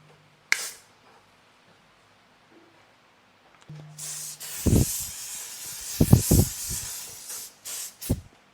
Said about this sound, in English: locking mist, antiperspirant spray, and this is the final seal up for my look.